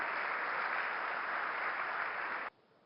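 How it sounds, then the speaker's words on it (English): A conference audience at the India Today Conclave 2017 claps and cheers in steady, dense applause that cuts off abruptly near the end. "Give a big round of applause for Karan Johar."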